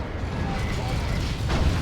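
Rocket run explosions in Warhammer 40,000: Dawn of War 2 rumble as a dense, continuous barrage of booms and blasts, loud and close, with a swell near the end.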